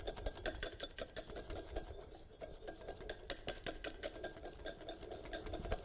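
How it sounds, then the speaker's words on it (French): Butter being whisked in a pan, a quiet rapid rhythmic scraping and rubbing of the whisk against the metal, steady throughout with no talking. "Donc je vais commencer au fouet à faire revenir mon beurre tranquillement."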